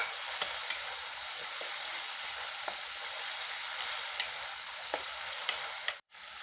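Ingredients for a spicy bata fish curry are stirred in a pan over a low flame, a soft steady sizzle punctuated by regular light spoon taps against the pan, ending with a brief silent cut.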